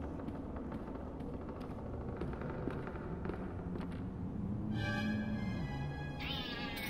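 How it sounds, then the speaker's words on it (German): A cat meows in the video game Black Mirror, heard over a steady low ambient rumble, with a brighter tonal cry rising near the end. "Ist das eine Katze? Oh, wie süß!"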